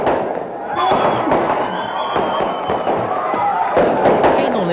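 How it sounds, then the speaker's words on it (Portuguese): Fireworks go off at the end of a party in the Rocinha favela, a dense run of crackling bursts and pops, close and loud, with crowd voices mixed in. "Queima de fogos."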